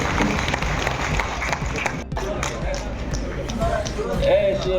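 An audience breaks into sustained applause at a public stage event honouring a performing artist, a dense, steady wash of clapping with crowd murmur mixed in throughout.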